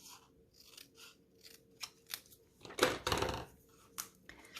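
Scissors snipping paper during card crafting, a few quiet close cuts and light handling rustles, with one louder, longer cut in the middle.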